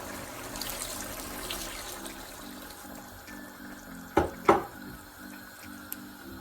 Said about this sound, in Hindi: अब हम 1 कप पानी डालेंगे।